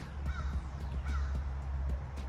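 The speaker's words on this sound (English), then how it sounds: "Shut up, birds." Several crows caw in quick succession over a low, steady rumble, the harsh calls repeating irregularly at moderate distance.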